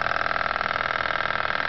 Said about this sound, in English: just want to run the engine.